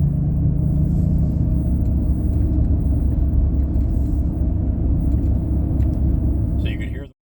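A 2005 Ford Freestyle idles steadily with a whining transmission, a loud constant engine drone and rumble close to the microphone that cuts off abruptly near the end.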